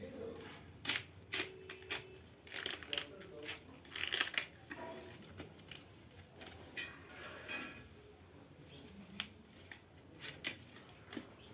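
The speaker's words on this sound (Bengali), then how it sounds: "প্রথমে আমি ফুলকপিটা কেটে নেবো।" A knife cuts through a large cauliflower, giving close, crisp cracks and snaps in irregular bursts, with quiet speech now and then.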